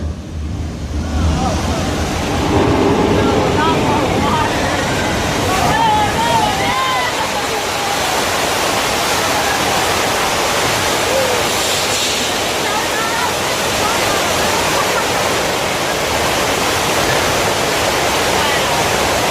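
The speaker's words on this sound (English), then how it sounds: "It sounds like the water main just broke." A loud, steady rush of water gushing from a burst water main roars continuously, broad and hissing, with muffled voices and commotion briefly audible near the start.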